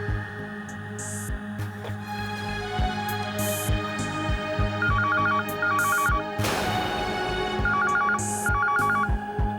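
Mobile phone ringtone chiming in a repeating melodic pattern, loud and close, over a continuous tonal background, in a hotel room as a family hurries to leave for a flight.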